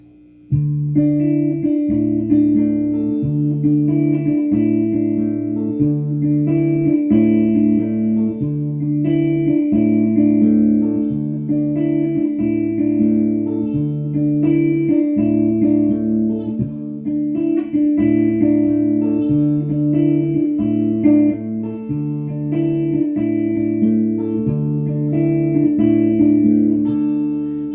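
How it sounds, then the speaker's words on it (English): A guitar plays a song slowly, a steady alternating bass line under ringing chord notes in an even, grooving rhythm, close and clear with no talk. "I'm going to show you how to play it very slowly."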